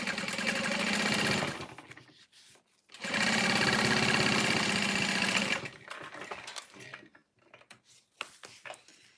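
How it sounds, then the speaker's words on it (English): A sewing machine top-stitches the folded edge of a bag's pocket lining in two loud, close bursts of rapid stitching separated by a short pause, followed by quieter handling noises. "I'm going to top stitch that."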